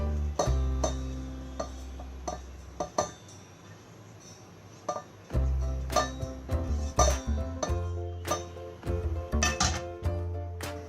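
Roasted spices tipped into a metal blender pot in a kitchen, giving a series of clinks and rattling taps, clustered and irregular, with brief quiet gaps between them.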